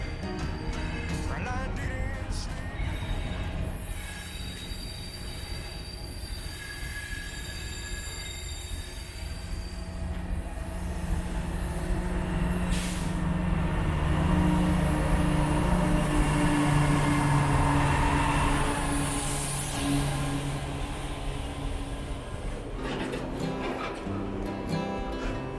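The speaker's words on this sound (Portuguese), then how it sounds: "a estação de trem Engenheiro Lang" A train rumbles and rolls past Engenheiro Lang station in the Marumbi mountains, Paraná, with squealing wheels and metallic screeches, loud and continuous throughout.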